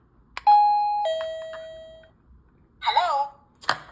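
A wireless doorbell sounds its normal two-tone chime, a clear ding followed by a lower dong that rings out and fades. A short spoken voice prompt comes after it and is followed by a brief noise.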